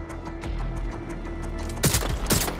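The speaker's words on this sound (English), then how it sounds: "Gunfire!" Rapid bursts of Watch Dogs: Legion gunfire crackle over a low steady background, with a louder cluster of shots near the end.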